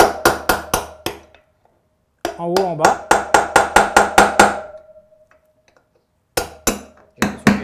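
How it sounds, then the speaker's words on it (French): Sharp, ringing metal hammer blows striking a steel drift against a motorcycle wheel bearing to knock it out: fast bursts of evenly spaced strikes, a pause, a longer run of blows, then a few more hits after a gap. A brief voice speaks between them. "on se munit de notre chasse en acier et de notre marteau. Et on va venir maintenant avec plus d'accès taper sur le roulement."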